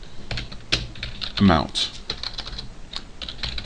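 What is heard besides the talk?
typing on a computer keyboard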